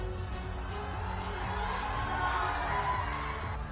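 Rally crowd in Motihari cheers and applauds for Nadda, a steady, moderately loud wash of voices and clapping with some shouting, heard at a distance throughout.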